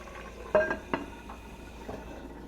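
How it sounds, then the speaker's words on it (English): Lid set onto a skillet of simmering rice for a Creole-style shrimp dish, a sharp near clink followed by a second lighter knock, over a quiet low bubbling background. "I'm going to put the lid on now, turn it down, and let the rice cook for 15 to 20 minutes"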